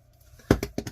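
Pencils dropped onto a tabletop: two or three quick, light clattering knocks, close and brief, after a moment of near silence.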